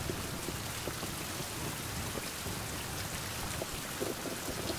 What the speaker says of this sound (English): Whoa, we got rain.